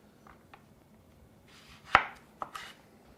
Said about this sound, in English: I have 2 large cucumbers, and I'm going to cut them into coins